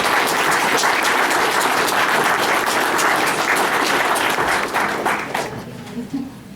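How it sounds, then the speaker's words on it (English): The audience at a comic-con cosplay contest gives a big round of applause, loud, dense clapping that holds steady for about five seconds before tapering off into a few scattered claps and quiet. "Big round of applause, everyone."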